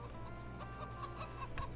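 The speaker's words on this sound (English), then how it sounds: "Let's see what the chickens are doing here." Chickens clucking in the farming game Farming Simulator 22, a few soft, scattered clucks over a quiet steady background.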